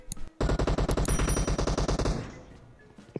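Automatic gunfire in a mobile game, fired from an apartment: one loud, rapid burst of about fifteen evenly spaced shots, close and dominant, then a fading tail and faint clicks.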